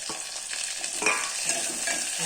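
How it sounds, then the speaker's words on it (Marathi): Mustard seeds, curry leaves and chilies sizzle and crackle in hot oil in a home kitchen, a dense, continuous frying hiss broken by brief stirring scrapes and pops. "कढीपत्ता मोहरी टाकून देणार आहे मिरची टाकून देणार आहे"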